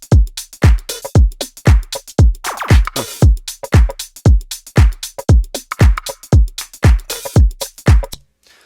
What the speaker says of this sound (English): the percussions sound like this